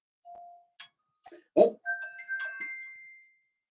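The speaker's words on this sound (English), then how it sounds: "that's my phone going off." A phone alert chimes in a quiet room as a few short tones, then a sustained ringing note, with a brief spoken exclamation over it.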